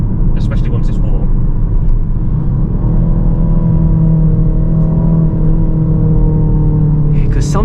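A 2023 MK4.5 facelift Ford Focus ST Estate with automatic gearbox rumbles with a low, steady engine burble from inside the cabin, while a person talks over it.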